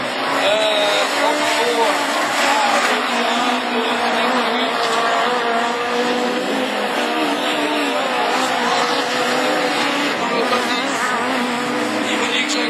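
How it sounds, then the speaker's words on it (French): Peugeot 206 Super 1600 rallycross cars racing at Châteauroux, loud continuous engine roar with shifting revs and passing cars close by, while a commentator talks over it. "Germaud qui est collé contre la 206 de Bernard René, la 206 noire couleur carbone qui est à vendre."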